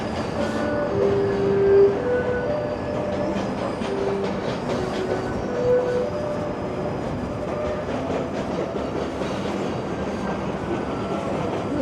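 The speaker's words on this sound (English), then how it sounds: "Some GO train action." A GO commuter train rumbles past near Union Station, a continuous rolling roar with rail clatter and brief wheel squeals, steady and fairly close throughout, no talk.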